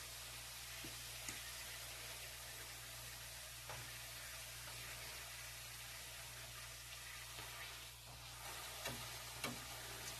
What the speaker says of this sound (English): I'm just frying up a tortilla right now.